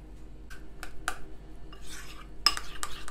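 Sauce thinned with a splash of water being mixed, a few distinct clinks and scrapes of a utensil against a bowl, quiet and close, with a soft swishing stir midway.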